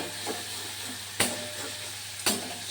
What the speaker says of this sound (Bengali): আর এলাচের বাটাটা দিয়ে ভালো করে মশলাটাকে আমি একটু কষে নিলাম